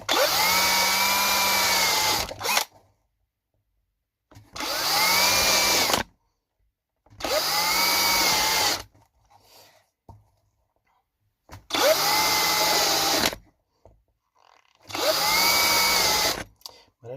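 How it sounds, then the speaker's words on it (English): A power drill runs in five separate bursts of about two seconds each, loud and close, with a steady motor whine and brief silences between them. "Just drill a fucking hole, you know."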